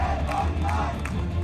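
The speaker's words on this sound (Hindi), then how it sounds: "यहां पर भी इस्लामिक कट्टरपंथियों की उन्मादी भीड़ ने हमला बोला।" A frenzied mob of Islamist radicals attacks the Dhaka College Hindu hostel in Bangladesh, heard as a dense, loud crowd roar with shouting voices blending into a steady din.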